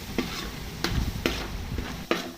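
Chili masala for a Kayamkulam-style crab curry is stirred in a pan. A spoon scrapes in four quick, close strokes over a soft sizzle.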